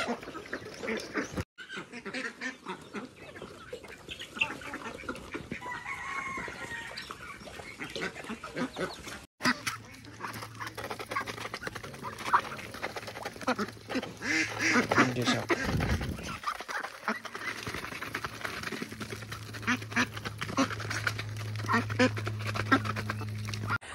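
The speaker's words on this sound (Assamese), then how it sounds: "ইয়াতে আছে হাঁহবিলাক" Farm ducks being raised for market quack repeatedly at close range over a busy, noisy background, with calls scattered across the whole stretch and a few louder bursts near the end.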